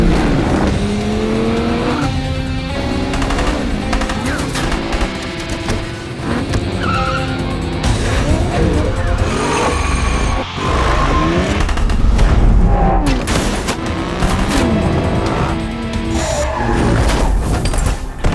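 Cars in an action-film chase roar and rev continuously with repeated tire squeals and skids, loud and dense throughout, engines rising and falling and overlapping with no talking.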